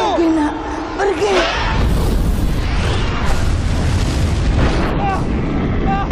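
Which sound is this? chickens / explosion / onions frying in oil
explosion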